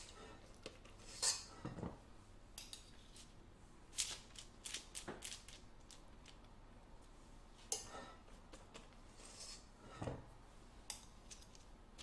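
A dessert spoon scrapes and taps against a bowl and baking tray while scooping biscuit dough, giving scattered metallic clinks and scrapes at an irregular pace, fairly close, with no talk.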